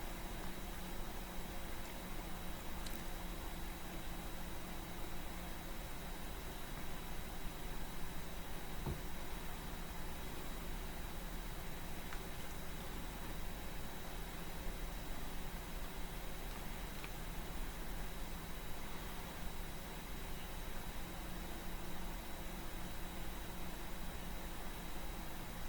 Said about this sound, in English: put the samosas in the frying pan